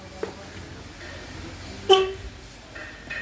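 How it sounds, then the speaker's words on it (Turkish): A single short horn chirp from a 2005 Kia Sorento as its doors lock sounds once against a quiet background. "Evet korna ile birlikte kilitleme işlemi yaptı."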